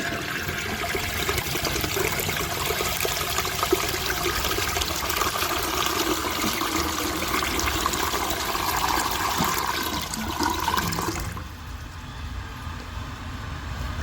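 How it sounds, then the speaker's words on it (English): A toilet flushes 15 marbles with a loud, continuous rush and gurgle of water for about eleven seconds, then drops to a quieter trickle as the tank refills. "asks if I can flush 15 marbles"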